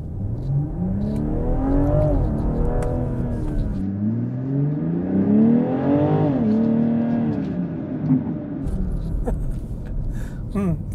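A BMW M440i xDrive coupe's engine revs up under brief acceleration on a public road. The close, throaty note climbs through rising sweeps as it shifts gears, with someone speaking over it.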